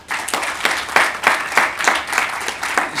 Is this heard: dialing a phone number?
no